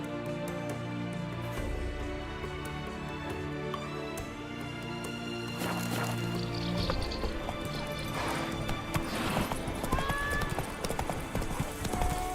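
Horse hooves clip-clop at a steady gallop in The Witcher 3 video game, close and rhythmic over a bed of orchestral music, with a brief whinny-like burst partway through.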